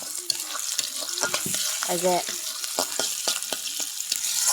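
Busy, crackling sizzle of onion and cabbage frying in a pan, with frequent stirring clatter and a voice speaking briefly.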